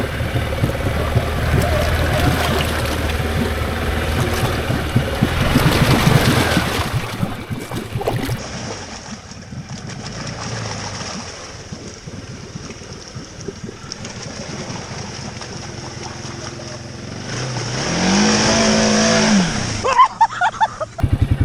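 A Polaris Pioneer side-by-side engine drones loudly and close as it charges fast into a mud hole on slippery clay, with rumbling strain and a rising rev late on, the sound of the engine alone.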